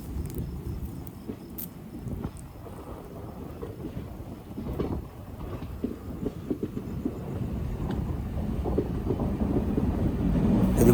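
A goods train approaches, a deep, low rumble that starts faint and swells steadily louder and closer, with no voices.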